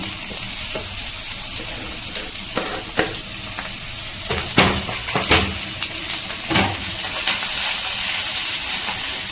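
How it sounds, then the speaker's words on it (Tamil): Finely chopped coconut pieces roast in oil in a pan, giving a loud, continuous sizzling hiss punctuated by scattered scraping clicks from stirring. "அதை வந்து பொடிசாக கட் பண்ணி இது ஆயிலில் ரோஸ்ட் பண்ணிக்கலாம்"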